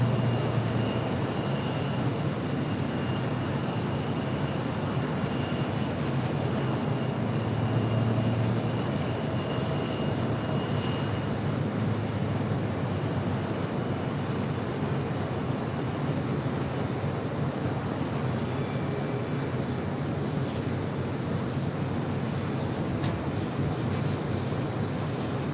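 A Boeing 747 landing on runway 25 left at LAX, heard as a steady, broad distant roar of jet noise that holds evenly throughout, with no talk.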